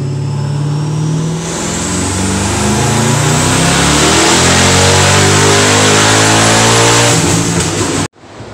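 A roughly 1000 rear-wheel-horsepower car running on pump gas screams through a dyno pull, its engine climbing in pitch as it revs hard and loud for several seconds before cutting off abruptly.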